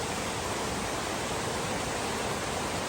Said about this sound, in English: Small waterfall.